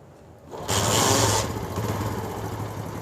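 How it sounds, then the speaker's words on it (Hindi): A motorcycle engine, about to have its carburetor adjusted, cranks and catches, revs loudly for a moment, then settles into a steady low-rpm idle close by with no talk over it. "बाइक को स्टार्ट करते हैं"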